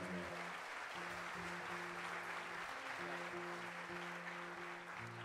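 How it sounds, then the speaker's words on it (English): Audience applause at a folk festival performance, welling up for a melodeon player as a steady wash of many hands, with sustained low tones from instruments or voices running underneath throughout. "I think he deserves a round of applause"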